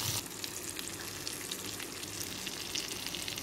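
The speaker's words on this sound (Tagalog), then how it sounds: "Now I fry this." Salmon seasoned with salt and pepper sizzles steadily in a frying pan, a dense continuous crackle of hot fat close up with no voices.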